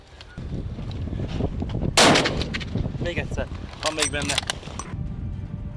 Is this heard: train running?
no